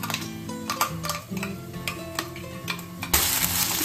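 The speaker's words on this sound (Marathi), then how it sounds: "वाटणाला पण असं मस्तपैकी भाजून घ्यायचं आहे कांद्यासारखं" Ground masala paste roasting with onion in a pan for chicken masala, giving a soft sizzle with scraping and stirring clicks and clinks, close and fairly quiet, with a louder burst of sizzling near the end.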